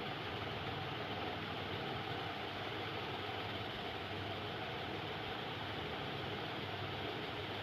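Small lifting fans on a mini hovercraft run in a steady, even whir, constant and fairly faint throughout with no pauses or talk.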